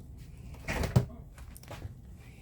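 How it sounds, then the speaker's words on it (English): A small refrigerator door in a Liberty of the Seas cruise ship balcony cabin is pulled open with a single soft thud and brief rustle, close by and quiet. "that door, you open that up, you get your little mini refrigerator."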